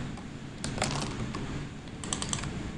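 Keys clatter on a computer keyboard in short irregular runs of taps, close and fairly quiet, with no speech.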